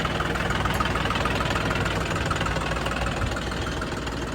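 A John Deere 5310 tractor with a 75 HP engine idles nearby, giving a steady, loud, unbroken diesel rumble with a faint knocking texture and no talk over it.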